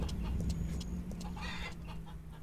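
Chickens clucking in the farming video game Farmer's Dynasty, a few short clucks over a steady low ambient hum, with a brief burst of louder squawking midway; no talking.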